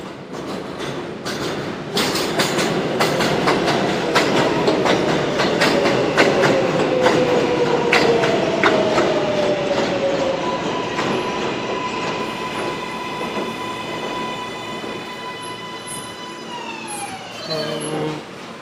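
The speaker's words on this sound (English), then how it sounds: "So we about to get on the L train" A New York L subway train rolls and rumbles with rhythmic wheel clatter, brief squeals and a rising electric whine as it brakes to a stop, heard from inside the car at moderate volume.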